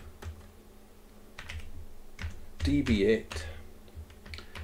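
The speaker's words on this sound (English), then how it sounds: "I'll type it out." Bursts of quick clicking keystrokes on a computer keyboard while typing out an IPv6 address, with someone speaking between and over the taps.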